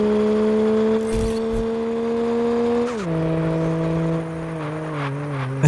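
An Acura NSX engine in the Car Parking Multiplayer game drones at high revs with a strong steady tone, dropping in pitch in steps as the VTEC stage shifts, loud and close with no talk.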